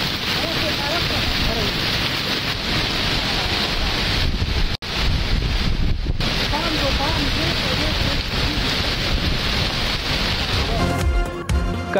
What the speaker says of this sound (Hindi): मुरीदके में तूफानी बारिश।